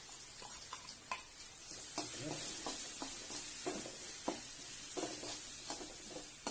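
A spoon stirs coconut paste in a pan, giving quiet rhythmic scrapes and knocks over a soft low sizzle, close but faint, with no voices.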